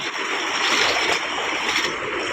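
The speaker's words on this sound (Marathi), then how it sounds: "साकवावरचा तुमका पाणी दाखवतोय" Monsoon floodwater in a Konkan village surges in a river over a small footbridge, a loud, continuous broadband rush and roar of flowing water heard up close with no voices.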